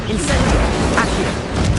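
Spell impacts in Hogwarts Legacy, with Incendio and Accio cast during a duel: loud, dense bursts and booming crackle fill the whole stretch, continuous and busy with no pause.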